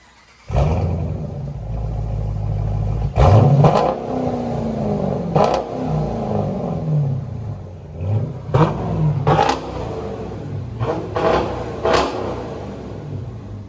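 A 2020 Dodge Challenger R/T 5.7L HEMI V8 with Borla ATAK dual exhaust and resonator delete rumbles steadily, then revs sharply several times in short bursts, each rise in pitch followed by a falling exhaust growl.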